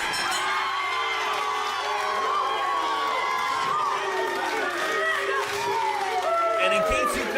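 A capacity wrestling crowd cheering and whooping loudly after a match finish, a sustained roar with shouts rising and falling throughout, with an announcer's voice mixed in.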